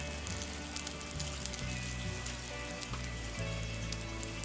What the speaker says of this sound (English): Now we're just going to brown the bread.